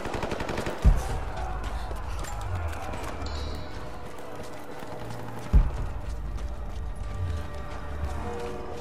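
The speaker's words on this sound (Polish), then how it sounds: "Cały czas słychać w tle odgłosy bitwy" Distant battle gunfire from the video game Rise of the Tomb Raider rattles in the background, with two sharper shots standing out over a steady low rumble of mechanical and hoof-like noise.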